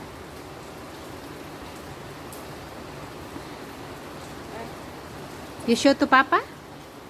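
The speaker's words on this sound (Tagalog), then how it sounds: "It's raining." Heavy rain pours steadily as a constant wash of noise throughout, with a child and an adult briefly speaking near the end.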